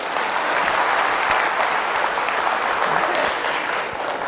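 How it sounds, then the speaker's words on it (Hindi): Audience applause at a talk, a full, steady wash of many hands clapping, loud and sustained, with a sharp clap near the end as it winds down. "भाई तालियां तो बजाइए।"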